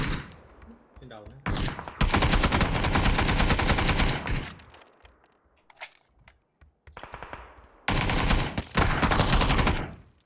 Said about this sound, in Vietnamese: Bắn trời kìa. Bắn trời.